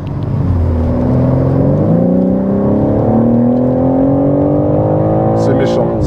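A BMW M3 G80 with its six-cylinder engine accelerates hard, a loud, continuous rising growl with steadily climbing pitch across several seconds, close and dominant, with a couple of brief sharp clicks near the end.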